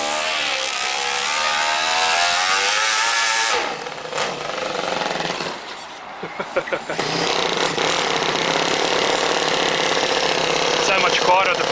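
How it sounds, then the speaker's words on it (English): A small 2-cylinder 4-stroke engine in an RC car with a custom exhaust idles loudly nearby, a steady ticking-over rumble broken by a brief dip and a few sharp blips partway through. "You can hear the motor kind of ticking over. Nice slow idle."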